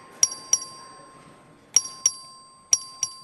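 Legislative voting bell rung by the clerk during a record vote in a chamber, three paired rings of a bright metallic bell, each a sharp double strike with a lingering tone, spaced about a second apart over a low room hum.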